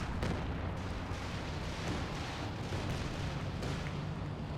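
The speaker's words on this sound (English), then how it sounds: "Artillery is coming in on the back lines." Distant artillery barrage in Company of Heroes 2 during a 4v4 match on the Road to Arnhem map, with B-4 howitzer shells landing on the back lines as a dense, continuous rumble of booms.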